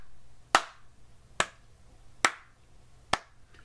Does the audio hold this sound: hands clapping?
yes